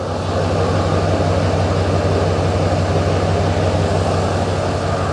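A Ford Super Duty truck with a new exhaust idles nearby, a steady deep low rumble that holds even and loud without any change, with no voices.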